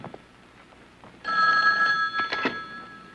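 A telephone bell rings steadily and fairly close in a quiet room, starting partway through and continuing as a sustained electronic trill with a few soft knocks around it, no one speaking.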